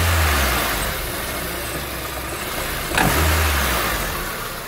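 A Toyota Hilux engine revs up from idle with a steady mid-pitched drone, swelling into a second acceleration about two-thirds through, heard up close with no talk, a drive-belt tensioner trepidation noted at the start of acceleration.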